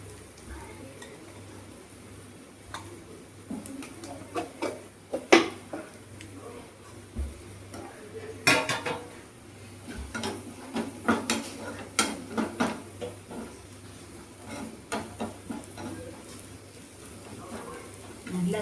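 Coriander seeds, cumin and dried chillies fry in a pan and get stirred, giving soft sizzling with repeated scraping and clinking of a utensil against the pan while a voice talks over it.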